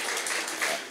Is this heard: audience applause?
yes